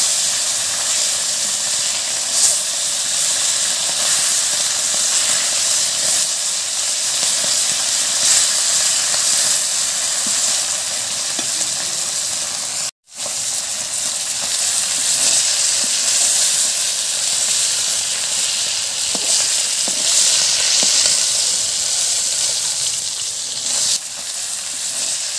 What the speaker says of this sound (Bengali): মাছগুলো একটু ভাজা হয়ে গেছে